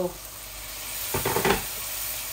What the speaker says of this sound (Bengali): অল্প একটু হট ওয়াটার দিচ্ছি